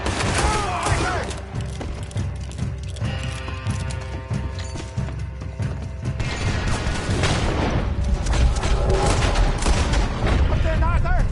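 Video game shootout with repeated gunshots and crashing impacts, loud and continuous over a busy score, while characters shout over the fighting.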